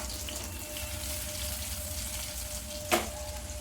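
Soft, steady sizzle of garlic frying in oil in a pan for tomato curry, with a brief clatter near the end.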